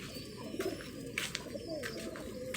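Soft, low pigeon coos repeat against a steady outdoor background, with a few faint chirps of other birds mixed in.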